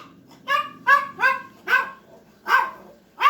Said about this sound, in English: Not sure what they're barking at, unless the neighbor's dogs are still barking